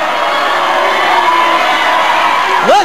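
Wrestling match crowd roars in a steady, dense wash of voices at a 1982 tag-team bout, loud and sustained with a rising whoop near the end.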